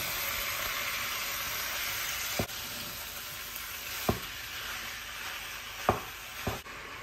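Minced meat frying with browned onions hisses softly and steadily in a pan, with a few distinct spoon scrapes and knocks as it is stirred, close but quiet, no talking.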